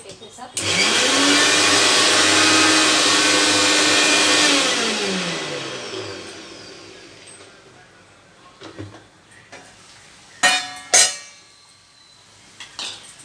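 A mixer grinder blends ivy gourd and tomato chutney, a loud whirring roar that holds steady for several seconds, then winds down and fades, followed by a few sharp clinks of the jar and brief speech.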